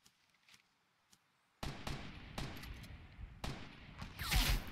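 Fortnite gunfire: faint distant pops at first, then a sudden close flurry of loud shots and bangs in several clustered bursts, ending in a heavier blast.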